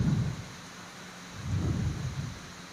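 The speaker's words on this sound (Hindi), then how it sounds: "इधर भी बारिश हो रही है" Steady rain falls outdoors at a gathering while low thunder rumbles in two rolling swells, loud and close, with no voices over it.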